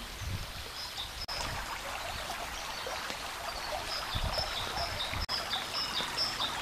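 The Corbille river flowing beneath a footbridge in Normandy woodland, a steady close rushing and trickling wash, with faint birdsong chirping above it throughout.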